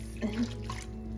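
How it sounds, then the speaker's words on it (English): Gravy cooking liquid is poured over a pot roast in a slow cooker, making a brief, close splash and gurgle that lasts about a second. "I'm gonna throw in the cooking liquid or the gravy that it says in the recipe, but I'm just gonna pour it in and try not to make a mess"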